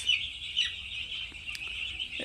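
Seven-day-old poultry chicks in a warm farm shed under lamps on a cold winter day make continuous high-pitched peeping and clucking, a dense, close chorus with a few louder calls.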